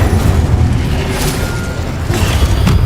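An Incendio fire spell cast in Hogwarts Legacy bursts with a loud, dense whooshing boom, sustained roaring blasts with a couple of sharper flares layered over a heavy low rumble.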